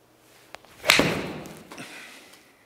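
A golf club strikes a ball into a Trackman iO simulator indoors: one sharp, loud thwack followed by a short fading rumble, alone without talk.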